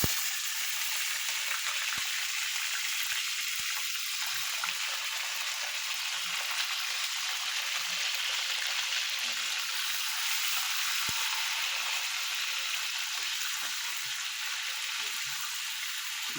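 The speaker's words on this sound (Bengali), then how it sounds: "এবার ওই তেলে আমি মাংস দিয়ে দিলাম।" Meat frying in hot oil left over from fried potatoes gives a steady, even sizzle and hiss throughout, with faint clinks and no talking.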